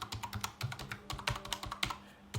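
Quick, irregular keystrokes on a computer keyboard rattle close and clear, a steady burst of typing with no voices.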